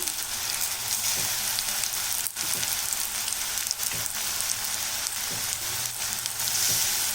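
Small bondas of batter deep frying in hot oil, a steady, dense sizzle with bubbling crackle that carries on without a break for several seconds, with no voices.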